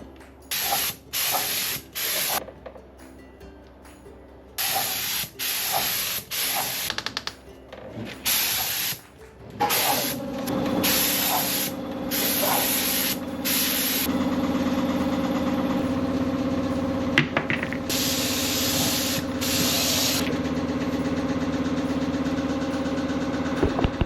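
Spray gun applying thinned paint during a 1987 Jeep Wrangler restoration: short, loud hissing bursts give way to a long, steady spray hiss with a compressor-like drone underneath.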